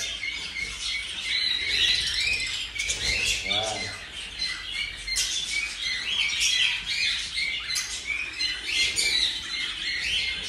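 Small birds in a nesting box give rapid, high chirps and squawks continuously, close and fairly loud, with a brief voice and some rustling partway through.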